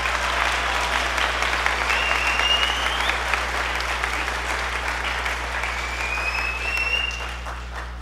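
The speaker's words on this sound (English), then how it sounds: "So give him another big round of applause." A school concert audience at a spring band concert gives a big, sustained round of applause, dense clapping from a crowd with a few faint whistles on top, easing off near the end.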